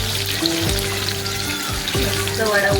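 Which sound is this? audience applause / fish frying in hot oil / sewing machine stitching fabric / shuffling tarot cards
fish frying in hot oil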